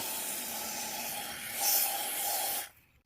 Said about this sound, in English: I first started off spraying the ports with the intake valve cleaner